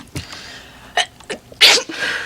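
A single sharp sneeze bursts out near the end, preceded by a few small breaths and stray noises, close and loud.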